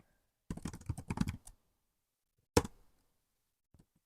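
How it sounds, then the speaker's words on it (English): A quick run of close computer keyboard keystrokes clatters in a dark, quiet room, followed by a single sharp key strike and then faint clicks. "I keep hitting the wrong keys"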